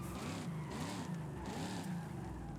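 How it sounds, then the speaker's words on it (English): A supercharged Dodge Coronet engine in Forza Horizon 5 revs hard and steadily, its droning tone rising and falling in repeated sweeps, loud and close with no talk over it. "Our engine revs to 7 grand."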